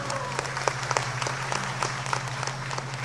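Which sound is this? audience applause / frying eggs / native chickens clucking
audience applause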